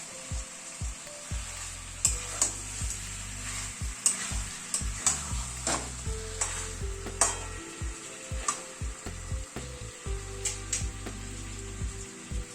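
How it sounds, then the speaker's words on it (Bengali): Chicken curry with potatoes being stirred in a pan, repeated rhythmic scrapes and knocks of a spatula over a soft continuous sizzle, close and moderately loud throughout. "ঢাকা দিয়ে কষাতে কষাতে মাঝে মাঝে কিন্তু একটুখানি ঢাকনাটা তুলে নাড়তে হবে"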